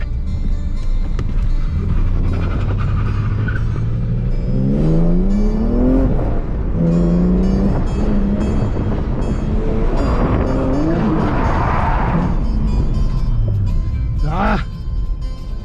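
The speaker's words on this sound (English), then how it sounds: "The transmission making so much noise." A car drifting through city streets at night, its engine revving and rising in pitch in loud sweeps, with a transmission whine and tire squeal running continuously under the engine roar.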